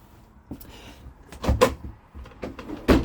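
A kitchen cupboard or drawer in a 2022 Bailey Phoenix+ 440 caravan is opened and shut, giving several close knocks and thuds with quiet handling sounds in between and no voices.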